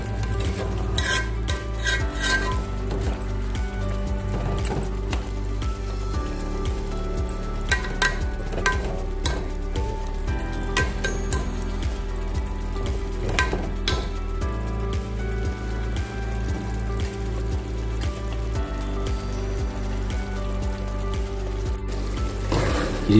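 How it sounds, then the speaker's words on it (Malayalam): A spoon stirs chicken curry in a pot after water has been added, Alappuzha style, with steady repeated scraping and clinks against the pot over a low simmering bubble, close and continuous, without talk. "ആവശ്യത്തിന് വെള്ളം ചേർത്ത് ഇളക്കുക"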